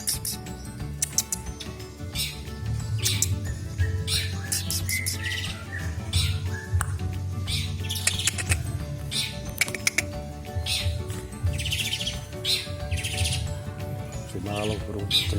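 Long-tailed shrike (cendet) giving repeated sharp squawking calls and chirps amid other bird sounds, moderately close, with a continuous low background hum throughout.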